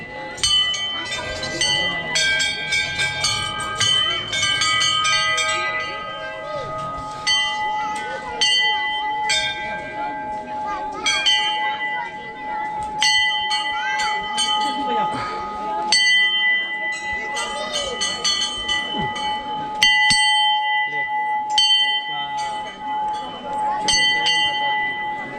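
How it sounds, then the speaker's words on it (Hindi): Temple bells ring repeatedly at Surkanda Devi Temple in Dhanaulti, Uttarakhand, with bright metallic strikes that overlap and linger in an irregular rhythm while people talk nearby. "घंटी बजाओ।"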